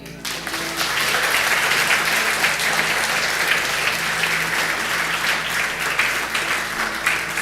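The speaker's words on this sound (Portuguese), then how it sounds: "Pode aplaudir o Senhor." A church congregation applauds during a Sunday morning service, sustained, dense clapping from many hands that swells quickly at the start and carries on evenly and loudly throughout.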